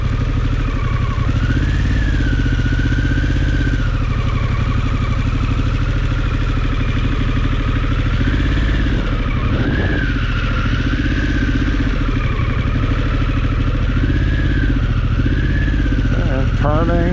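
An adventure motorcycle rides off-road at Holey Land, its engine loud and close throughout, rising and falling as the throttle opens and eases, with a sharp burst near the end.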